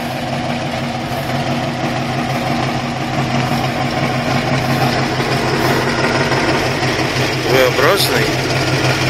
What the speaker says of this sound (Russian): Что за мотор?